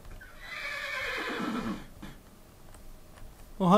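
A single loud horse whinny from the Minecraft modpack Hexxit, a falling neigh followed by faint hoof clops, heard alone without talk.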